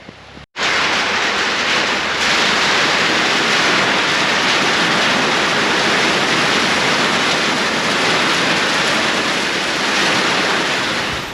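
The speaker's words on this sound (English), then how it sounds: "There's a heavy downpour coming, and I can hear it." A steady, dense roar of heavy rain pouring down, broadband and unbroken for the whole stretch after a brief quiet start; no voices.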